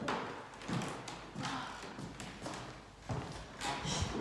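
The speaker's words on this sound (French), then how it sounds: "J'adore le parquet qui grince." Footsteps cross an old wooden parquet floor indoors, each step landing with a dull thud and creak in a slow, regular rhythm of about eight paces, moderately quiet.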